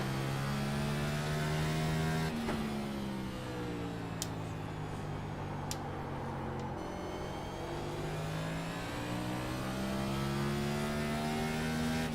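A NASCAR Next Gen car pulls out of the pits in iRacing at Martinsville, its engine droning in steady tones that drop and climb again through gear changes, with a faint hum behind it and no talking.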